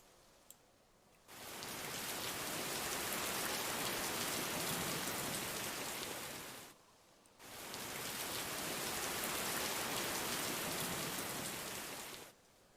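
Steady broadband rain fills a game engine demo's ambience, swelling in after a quiet start, fading briefly near the middle, then returning at full strength before dropping away at the end.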